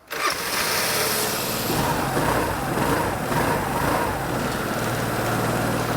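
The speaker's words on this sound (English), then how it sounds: "So we've primed the carburetor," A 2009 Vespa S150 scooter engine catches right after its carburetor is primed and runs on choke with a busy, buzzing, slightly raspy idle. It is close and steady throughout, with no talk.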